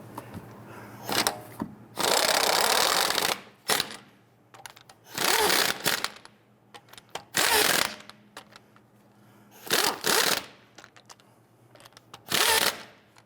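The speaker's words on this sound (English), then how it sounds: "Now that we have all of the lug nuts started by hand, we can go ahead and snug those down." Lug nuts on a Jeep Grand Cherokee rear wheel being snugged down with a power tool, in several loud, separate bursts of a second or so each, with quiet gaps between them.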